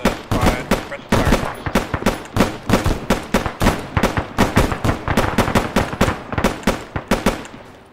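Rapid, loud bursts of automatic gunfire from a military video game, dense and nearly continuous with sharp, overlapping shots and brief gaps between volleys.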